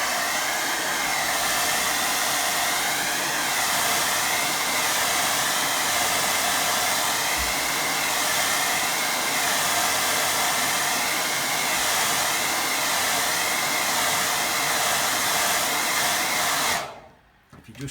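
A hair dryer blows steadily over a wet watercolour painting, a loud, close, continuous roar that holds even for about seventeen seconds before abruptly switching off near the end.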